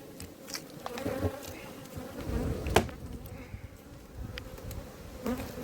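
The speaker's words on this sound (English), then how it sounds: "look at how many bees there are in there." Dense hum of a crowded apiary hive packed with bees, a close continuous buzzing drone with scattered crackles and a brief sharp knock near the middle.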